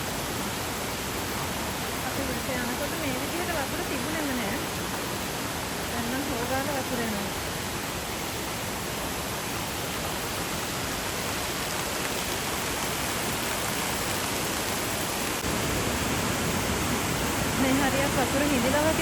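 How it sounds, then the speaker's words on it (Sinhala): Rain-swollen water rushes down the Sri Pada pilgrimage trail in a continuous broad roar, close and steady, with voices faintly audible under the flow. "දැන් පහළට කරුණාට යද්දී නම් හොඳට වතුර එනවා"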